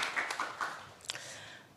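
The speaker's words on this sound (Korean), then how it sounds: "박수로 환영해 주시기 바랍니다" Audience applause welcoming a panelist at a regional forum in Jeju: faint, scattered clapping from a hall crowd, a few sharper claps poking through a soft, continuous patter.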